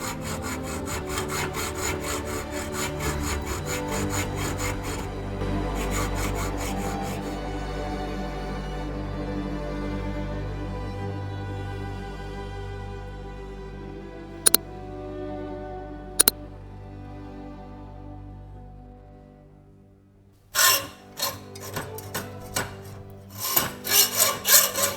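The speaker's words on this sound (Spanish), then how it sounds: "Pues ya las tengo cortadas con la sierra" A hand saw cuts slots into a small metal workpiece, a long run of close, steady rasping strokes, ending in quicker rhythmic bursts of sawing, with no speech.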